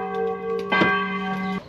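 A bell rings out to mark the trout fishing season opening, a sustained metallic tone struck again partway through, loud and ringing for over a second before cutting off.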